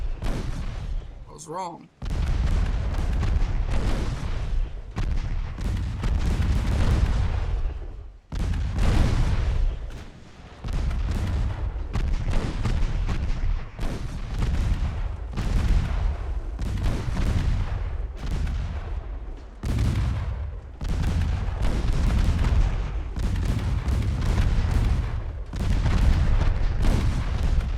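Heavy naval guns boom repeatedly in a sea battle in Ultimate Admiral Dreadnoughts, loud deep blasts spaced a few seconds apart over rumbling ship noise, with someone speaking briefly.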